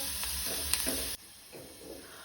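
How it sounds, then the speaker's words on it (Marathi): Four garlic cloves fry in oil over a low gas flame, a bright sizzling hiss with small pops that suddenly drops to a much quieter, softer bubbling sizzle partway through. "लसूण अशी बरी तळसून घेवपाक जाय।"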